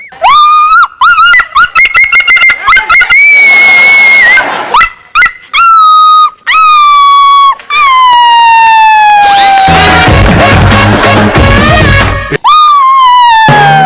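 A person imitates a dog with loud, drawn-out whining howls that slide in pitch, repeated in bursts, while crowd noise swells beneath the later calls.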